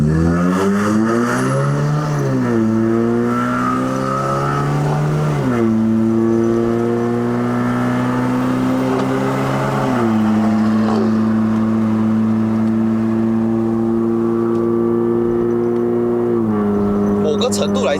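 A 2009 Honda City GM2 1.5E with a remapped automatic accelerates at half throttle, engine drone rising in pitch, dropping sharply at each upshift and climbing again several times, heard from inside the cabin.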